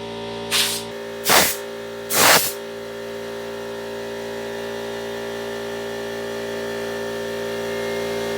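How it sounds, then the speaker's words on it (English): Air compressor spray gun blasting paint onto wooden pet leash hooks in three short hissing bursts, over a steady compressor hum that runs throughout. "Now I'm going to get the air compressor and spray them"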